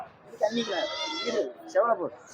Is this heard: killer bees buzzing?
no